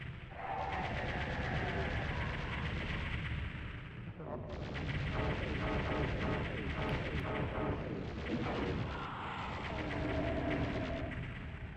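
Plasma rifle firing in Doom 2 on the PlayStation, a steady stream of rapid repeating shots with rumbling hits, loud and continuous, pausing briefly and resuming, with voices heard faintly beneath.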